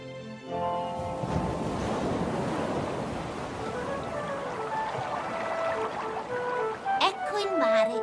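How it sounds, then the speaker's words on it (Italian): Cartoon sea waves wash and surge in a continuous rolling swell, with music and voices layered over the water noise. "Ecco il mare, mamma mia!"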